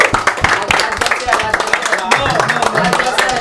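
A small studio group clapping for themselves at the end of a show, a burst of sharp, uneven claps mixed with voices talking over them, close and fairly loud.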